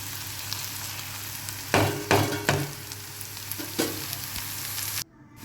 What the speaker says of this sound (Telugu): ధనియాల పొడి వేసి కలుపుతున్నా మంచిగా.